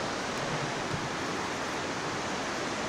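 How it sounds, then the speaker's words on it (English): Jogini waterfall in Manali, a steady broadband roar of falling water, continuous and fairly close with no voices. "so finally I am at Jogni waterfall. That is the waterfall."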